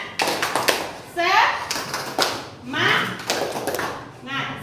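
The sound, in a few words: children doing a rhythmic spirit clap (tepuk semangat)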